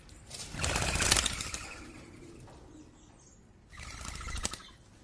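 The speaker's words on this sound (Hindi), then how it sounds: "ये कहकर चिड़िया उड़ गई।" A bird's wings flap loudly and close in two bursts as it takes off and flies away, with a quiet gap between the bursts and no voices.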